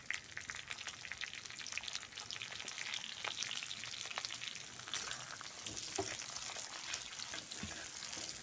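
Steady crackling sizzle of ginger, garlic and onion frying in hot oil in a pan, with occasional sharper pops and spatters, close and continuous.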